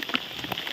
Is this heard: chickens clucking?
no